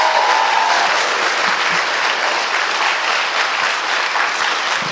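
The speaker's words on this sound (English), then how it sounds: "I so rarely get that type of applause. I'm going to do it again." Sustained, dense audience applause fills an awards ceremony for National Crime Victims' Rights Week. The clapping stays loud and steady from start to finish, with no talk over it.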